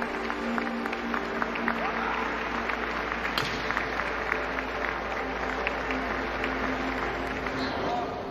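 Spectators applaud after a kendo bout in which a Japanese fencer wins 5-0 with consecutive wrist and head strikes, his opponent clapping too; steady, moderately loud clapping runs throughout with a low hum beneath.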